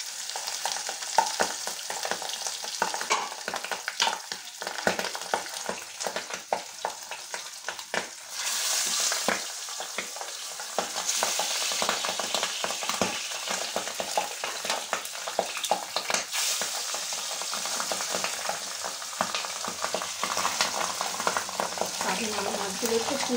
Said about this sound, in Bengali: তেলটা গরম হয়ে গেছে, মাছগুলো একে একে দিয়ে দিই।